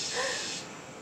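Swamp cicada call played back on a phone, a loud broadband hissing buzz lasting about a second, steady before easing slightly toward the end.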